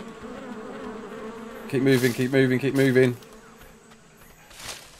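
A bee in ARK Survival Ascended keeps up a constant buzz, loud and close, while a voice briefly talks over it and a faint swell follows near the end.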